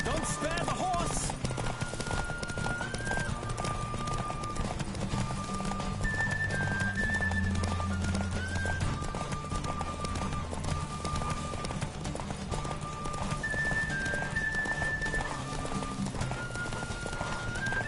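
Horse galloping in a race in The Witcher video game, with steady rapid hoofbeats under a continuous music score, a whinny near the start.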